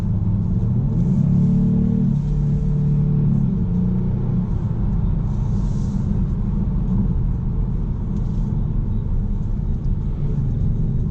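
A 2018 Kia Stinger GT2 drives in Sport mode, its engine giving a steady, loud low rumble from inside the cabin, with a brief rise in pitch early on before settling into a constant cruising drone.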